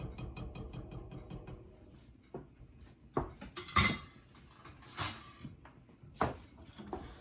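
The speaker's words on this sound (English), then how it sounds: "Stir it so the cheese melts, and you need to get the cheese incorporated with the white sauce." A utensil stirs cheese into white sauce in a pot for macaroni and cheese, with quick close scraping taps at first, then scattered clinks and knocks against the pot.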